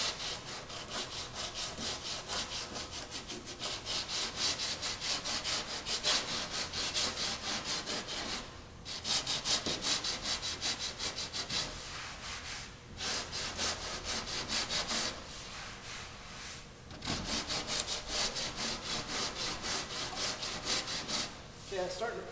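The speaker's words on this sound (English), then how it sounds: "So you notice how fast it's sanding off." Steady rhythmic scraping of a sanding block worked back and forth over a car body panel, continuous strokes with a few brief pauses.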